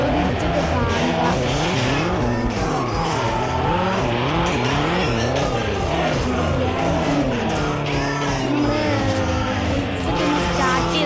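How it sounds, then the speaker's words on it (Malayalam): Race cars in a video game roar off the starting line together, a loud, dense engine drone with rising and falling pitch sweeps and tire squeals, continuous throughout with faint background music. "നമ്മുടെ റേസ് അങ്ങനെ സ്റ്റാർട്ടായിരിക്കുന്നു"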